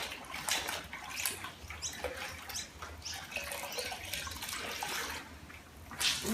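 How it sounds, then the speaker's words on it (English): A cloth being washed in water while cleaning a balcony, with continuous close splashing and sloshing and a brief louder surge near the end, no talk. "I wash the cloth."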